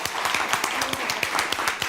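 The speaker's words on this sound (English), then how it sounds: "So let's give a big cheer for those who helped with that." An audience at a live-streamed gathering claps steadily, a dense rapid patter of many hands without pause, fairly close and loud.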